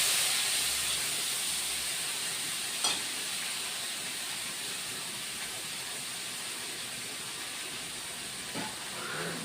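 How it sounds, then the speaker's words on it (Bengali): Spices and ingredients sizzling in hot oil for rui fish kalia, a steady broad hiss that stays fairly quiet and even throughout, with a couple of faint clicks from the pan. "এবার তেলের মধ্যে এটা দিয়ে দিচ্ছি।"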